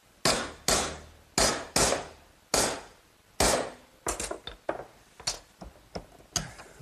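A hardwood block is hammered onto the corner of material bent in a vise, about a dozen sharp woody knocks, evenly spaced at first, then quicker and lighter, close and loud with no talk.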